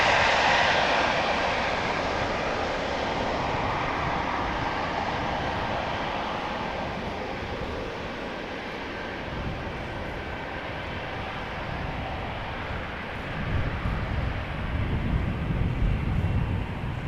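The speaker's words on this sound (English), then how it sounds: "Bulgaria Air Flight 462, brand new airplane, first flight October 2023, the LZBAR to Sofia, Bulgaria." A brand-new Bulgaria Air Bombardier A220-300 (C Series) airliner at Amsterdam Schiphol Airport, a loud continuous jet engine roar that drifts and swells slightly, with a deeper rumble building near the end.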